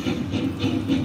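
A slot machine game plays a train sound effect, a loud, steady chugging hiss with rhythmic puffs that repeat about every quarter second for a brief moment.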